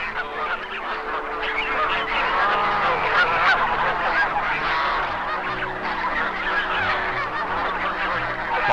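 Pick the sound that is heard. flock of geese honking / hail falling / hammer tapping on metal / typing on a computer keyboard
flock of geese honking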